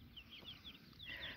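Faint, soft clucks and peeps from a blue cuckoo Brahma hen with her eight chicks, several brief high chirps scattered over a quiet background.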